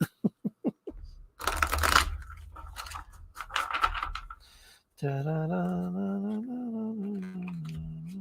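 Tarot cards being shuffled by hand in a quick, crisp burst of riffling and flicking, close and fairly loud, followed by a person speaking.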